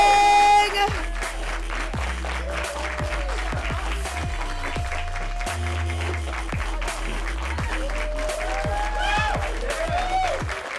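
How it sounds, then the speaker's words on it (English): A comedy club audience claps steadily, moderately loud and sustained. Music with a low bass line plays under it. "Start clapping it up right now."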